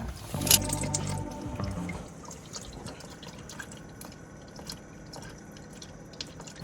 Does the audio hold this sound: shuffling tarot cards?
no